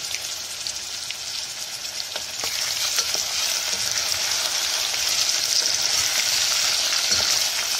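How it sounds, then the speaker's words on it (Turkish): Chopped onion, two garlic cloves and a spoonful of kavurma sauté in oil in a pot for lentil soup, giving a loud, continuous close sizzle that grows stronger partway through, with faint stirring ticks. "Sıvı yağ koydum. Kavurdum."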